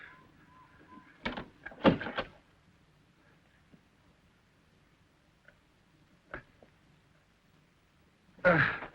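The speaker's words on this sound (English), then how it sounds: "Shut the door." An interior door slams shut in a tense horror scene, a couple of sharp knocks and thuds followed by quieter bumps and a final loud bang near the end, with no voices.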